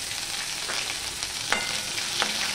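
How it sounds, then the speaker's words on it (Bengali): Ginger paste frying with turmeric in a pan over a low flame, a continuous soft sizzle with a few brief scraping strokes as it is stirred. "এখানে আমি আদা বাটাটা দিয়ে দিলাম"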